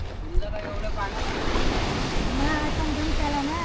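Sea waves wash and rumble steadily near the coast at Murud, mixed with wind noise, while faint whistling or bird-like tones drift over the constant surf.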